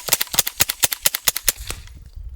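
Rapid string of sharp, loud gunshots from a 6mm ARC rifle firing Freedom Munitions 165-grain Hush subsonic ammunition at a long-range shooting session, about a dozen evenly spaced cracks in quick succession before fading into quiet outdoor ambience.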